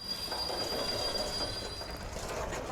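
Freight train arriving with a load of gravel in Workers & Resources: Soviet Republic: continuous rolling rumble with a thin, high wheel squeal over it, steady and fairly close, no voices.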